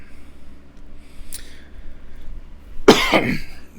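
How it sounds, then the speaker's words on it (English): A single sharp cough, close and fairly loud, breaks a quiet background near the end, after a fainter breathy sound earlier. "Apologies, just needed a quick cough there."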